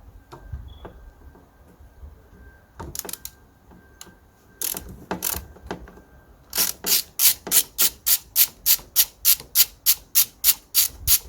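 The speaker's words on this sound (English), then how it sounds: "So the last bit we need to do is to remove these two screws here." Phillips screws come out of a faulty, noisy front wiper motor on a Renault Clio, heard as a few scattered clicks followed by a steady run of evenly spaced, close ratcheting strokes, with no talk.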